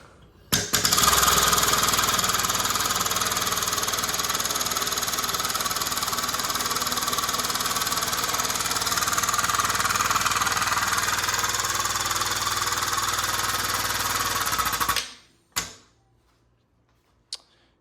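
An air-powered OTC 1585A power train lift pushing up gives a loud, steady pneumatic hiss and rattle lasting about fourteen seconds, then cuts off abruptly, followed by a couple of brief clunks and near silence.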